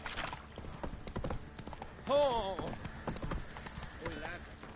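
Roach, Geralt's horse in The Witcher 3, trotting with steady clip-clop hoofbeats close by, followed by a brief whinny, while someone talks over the hooves.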